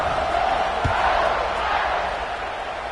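Stadium crowd roaring in a College Football 26 video game after a score, a loud, steady wash of cheering and murmur with a brief thump partway through.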